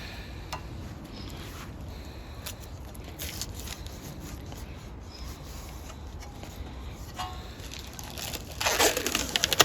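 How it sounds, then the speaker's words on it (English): Protective plastic film is peeled and crumpled off insulated metal roofing during gutter installation. It makes a steady crinkling rustle that grows louder and harsher near the end. "Get every last bit of plastic off."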